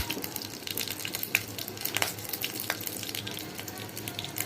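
Cumin seeds sizzling in hot oil in a pan while cooking a thin tomato lentil dal, a steady close crackling hiss with a few sharper pops throughout.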